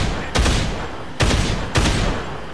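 Three loud, booming gunshots in the Dead Island video game, spaced unevenly over about two seconds, each with a long rumbling tail, heard over a constant noisy game background.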